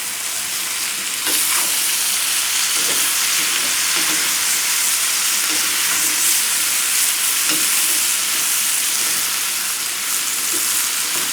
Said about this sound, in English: I want to have that sauteed look, and I still have enough heat in there where things aren't boiling